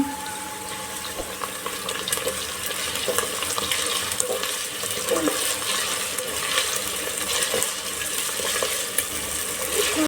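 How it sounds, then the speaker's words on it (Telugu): Freshly ground ginger-garlic paste fries in a pan for a fish and okra curry, giving a steady close sizzle with scattered crackles and occasional stirring scrapes. "ఫ్రెష్గా రుబ్బుకున్న అల్లం వెల్లుల్లి వేద్దామండి. అది పచ్చివాసన పోయేదాకా వేగనిద్దాం."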